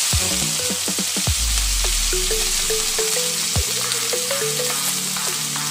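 Chopped onions with fennel seeds drop into hot oil for egg podimas, giving a loud steady crackling sizzle with soft background music underneath.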